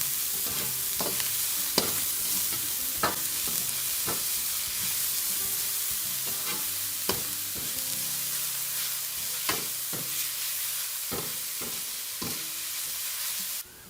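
Chopped leeks being stir-fried in a tempering of spices for string hopper kottu, steady sizzle with repeated sharp scrapes and clacks of a spoon against the pan, close and alone.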